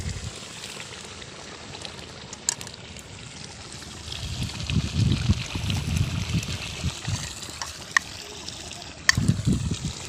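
A full river flows close by with soft rushing and lapping water, swelling in gentle waves, with a few faint knocks and clicks over the steady wash.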